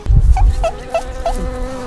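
A swarm of wasps drones close and loud, the buzzing rising and falling in a few wavering pulses over a low rumble.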